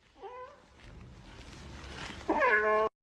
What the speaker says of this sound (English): This cat really likes corn.